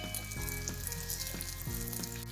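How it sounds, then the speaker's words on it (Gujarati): Carrot sambharo sautéing in a pan, a steady close sizzle of sliced carrots frying in oil with a few soft stirring scrapes, no voices. "થોડીક વાર આમ સાતળવાનું છે."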